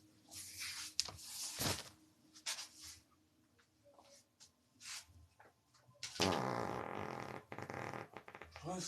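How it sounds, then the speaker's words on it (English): Several loud, abrupt farts burst out at irregular intervals, with scattered household knocks and rustling between them, ending in a long, rough broadband stretch. "Why am I farting so much?"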